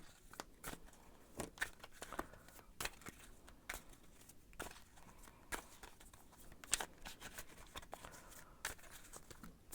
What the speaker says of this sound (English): I'm going to shuffle some cards to see what the cards have to say about your Christmas Eve.